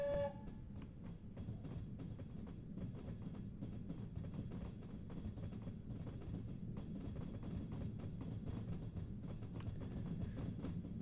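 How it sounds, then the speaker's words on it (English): A train passes in the Trans-Siberian Railway Simulator video game with a steady, close rumble and continuous clickety-clack of wheels over rail joints, and a brief whistle-like tone at the start. "And this train's coming through now."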